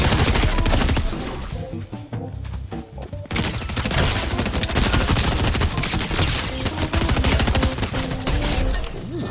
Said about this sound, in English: I kind of like this assault rifle